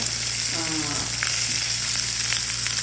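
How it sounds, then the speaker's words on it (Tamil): Small salmon fish frying in a pan sizzles steadily and close, a continuous crackling hiss with a faint brief tonal sound partway through. "இன்னைக்கு ஸ்மால் சால்மன் ஃபிஷ்ஷை ஃப்ரை பண்ணியிருக்கேன்"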